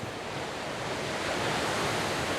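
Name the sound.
Caracol waterfall in Canela, at its foot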